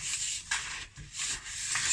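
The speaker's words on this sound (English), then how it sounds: "What I might do, grease my tin." Greasing a cake tin for angel cake, the greased surface rubbed in brisk, repeated strokes with short pauses between them, close and fairly quiet.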